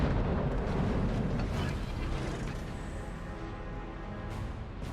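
The Yamato battleship's main guns fire in a naval battle game, a heavy rumbling boom that is loudest at the start and then slowly fades into a lingering low roar.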